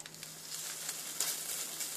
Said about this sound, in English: these are sizzling good and they're just going to start to brown